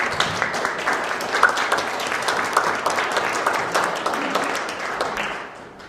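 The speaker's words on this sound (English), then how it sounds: "I sure hope that you'll join me in applauding the speakers who took time from their Saturday morning" Church workshop audience applauds the speakers in a Saturday morning session, giving a steady round of clapping that holds at moderate volume for several seconds before fading out at the end.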